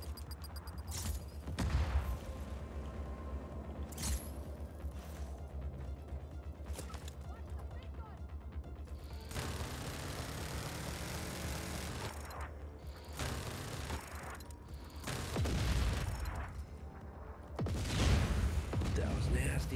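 Explosions and gunfire in the open-world action game Just Cause 4, a dense run of booms, crashes and rattling shots lasting throughout, loud and layered over a continuous rumbling game soundscape.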